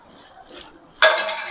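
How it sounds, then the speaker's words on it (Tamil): Turkey berry curry stirred in a cooking pot, a quiet scrape followed by a sudden louder metallic clatter of spoon against pot, close and alone without voices. "நல்லா கலக்கி விடணும்"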